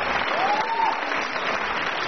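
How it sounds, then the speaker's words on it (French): Loud crowd applause for contestant number five at a guitar festival in Tahiti, a dense continuous clapping with a brief whistle-like tone riding over it. "On peut l'applaudir, déjà,"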